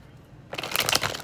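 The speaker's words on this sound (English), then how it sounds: "I do shuffle with you guys present or, throughout my recordings, so just for authenticity purposes." Playing cards being shuffled: a brief, close riffle of rapid fluttering snaps, starting abruptly after a quiet half second and lasting under a second.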